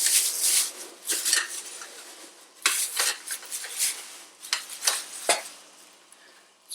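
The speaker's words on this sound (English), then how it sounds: "So there's the teapot for boiling water" Metal clanks and scrapes as a camping teapot and its lid are handled, several sharp clinks spread irregularly over a few seconds, close up.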